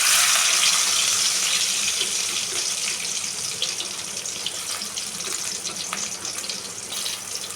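Garlic fries in oil in a pan for Tamil tamarind curry, pulikkulambu, a steady bright sizzle that starts loud and eases slightly while continuing close, with no talking.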